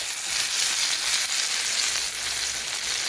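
Smothered chicken browns in a cast iron skillet after being flipped, giving a steady, loud, close sizzle of frying that runs unbroken with no talking.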